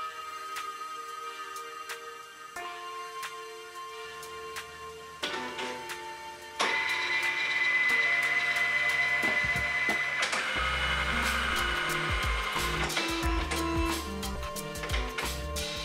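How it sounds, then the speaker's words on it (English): A Canon MF113w mono laser multifunction printer scans a photo nearby, building from quiet clicks and whirs into a loud, steady mechanical hum with shifting motor tones and no speech. "Next, I scan a photo, which has been printed with the 4-ink CIS printer."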